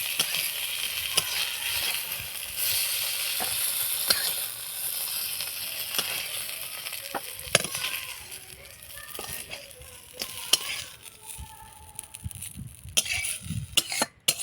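Fish frying and sizzling in a pan over a clay stove while baul fish and dry mango curry is cooked, a steady broadband hiss running throughout with occasional clinks and stirring knocks, fairly close.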